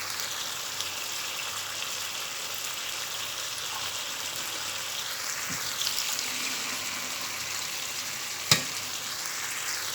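Spaghetti simmering in a pan of fresh tomato salsa gives a steady, moderate sizzle and bubbling hiss throughout, with a couple of faint utensil taps near the end and no talking.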